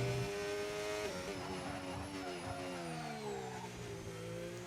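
Formula 1 race car in a racing game at Bahrain, engine wailing and shifting pitch as it brakes hard into a corner with a tyre lock-up, then accelerates out with some wheel spin; loud and continuous.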